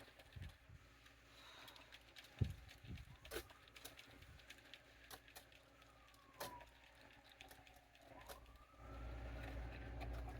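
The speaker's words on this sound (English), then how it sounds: "Sirens are going by." Sirens wail faintly in the distance with rising and falling tones, mixed with traffic noise and scattered clatter, growing into a louder rumble at the end.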